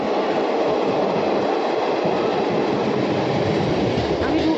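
A passenger train bound for Adra pulls out of a station, a loud, close, continuous rumble of rolling wagons with faint clickety-clack and no break over several seconds.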